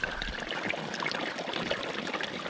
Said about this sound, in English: There's so much water coming out of the other end that it's actually suctioning the water in on that side.